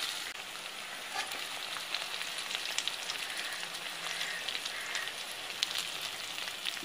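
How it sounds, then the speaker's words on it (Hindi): Onion, green chilli and bay leaf fry in oil for a fish head curry, giving a continuous close sizzle with a dense crackle that stays even throughout and has no talk over it. "इसके साथ ही साथ हरी मिर्च भी इसमें डाल देना है, तेज पत्ता भी डाल देना है और इसे फ्राई करना है।"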